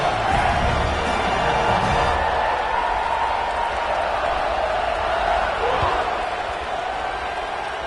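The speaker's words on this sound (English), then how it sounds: "this crowd is buzzing after that last score" A stadium crowd in a college football video game, Miami versus Clemson, keeps up a continuous broad buzzing roar with no clear peaks, heard steadily throughout.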